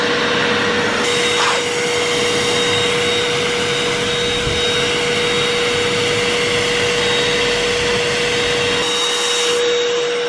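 An electric air pump inflates an inflatable hot tub with a loud, steady droning whine that runs continuously throughout, close up and without pauses.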